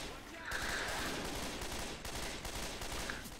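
Dense gunfire from Left 4 Dead 2 zombie combat in The Parish campaign, a steady loud rattle of rapid shots running through the whole stretch, with voices talking over it.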